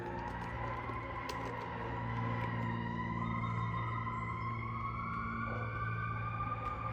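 A fire engine siren wails in the distance, its long rising and falling tones sustained steadily for several seconds over a low constant background rumble, with no talking.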